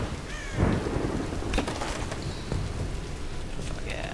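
Steady rain patters under rumbling thunder in a Tomb Raider game storm, a dense wash of downpour with low rolling thunder and a louder crack early on.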